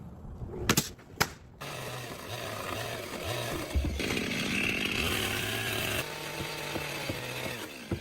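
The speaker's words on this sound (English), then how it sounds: "They are cutting off the excess parts of the OSB board with a chainsaw along a precise line" A chainsaw cuts excess edges off an OSB board while building a forest home, a steady buzzing whine after a couple of sharp knocks, close and loud, with its pitch shifting under load.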